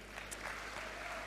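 Brief, faint patter of audience clapping at an apple grading and pack house launch, thin and distant over a low steady hum, lasting just over a second.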